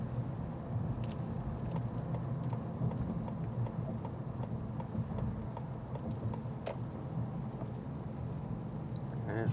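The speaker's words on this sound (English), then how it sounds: "And it's raining a little bit more." Light rain heard from inside a car driving through a construction zone on a Sunday afternoon, a steady broadband wash over low road rumble with occasional faint drop ticks throughout.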